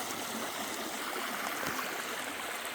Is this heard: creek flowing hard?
yes